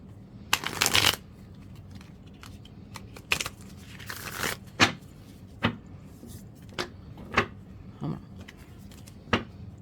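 Tarot cards being shuffled close up: a burst of riffling followed by a series of crisp slaps and taps at irregular intervals, no talking.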